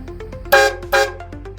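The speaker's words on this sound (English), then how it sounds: "You got city horn, you got air horn." Air horn fitted to a 2024 Ford F250 pickup truck, two short loud blasts in quick succession set against a faint background hum, with soft clicks around them.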